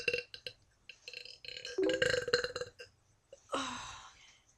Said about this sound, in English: You said you couldn't burp anymore.